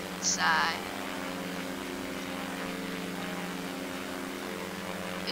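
Steady droning hum of a propeller plane engine cruising near a mountainside in the video game SimplePlanes, an even continuous tone with a brief electronic chirp at the start.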